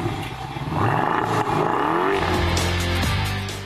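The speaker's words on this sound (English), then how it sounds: "Then it's time to take the 300-kilowatt, 8-cylinder engine onto the street." A BMW convertible's 300-kilowatt 8-cylinder engine accelerates on the street, roaring loud and close as its pitch climbs steadily through the revs, with no talking.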